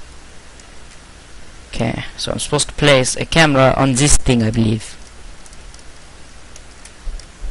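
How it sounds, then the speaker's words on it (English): Steady rain falling outside, a soft even hiss lasting the whole time, with someone talking close over it in the middle. "Sorry if you can hear the rain."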